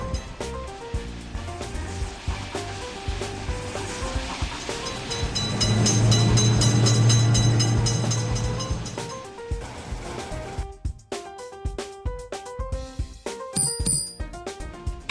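A video game train passes a railway crossing with a swelling rumble and clatter that peaks midway and fades, amid repeating chiming and bell-like game tones.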